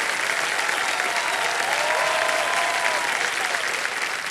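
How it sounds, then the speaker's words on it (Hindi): Studio audience of a televised quiz show applauding a contestant, a loud, dense and continuous burst of clapping from a large crowd. "तालियां बजते रहे विजय जी के लिए"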